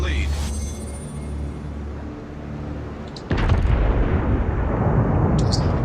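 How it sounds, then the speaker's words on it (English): Naval guns boom and explosions rumble in World of Warships during a battle with the cruiser New Orleans, a heavy blast hitting midway and leaving a dense, loud roar, with game voice lines spoken over the action. "Concentrate fire on the enemy warship. Good hits on the Atlanta, setting him on fire."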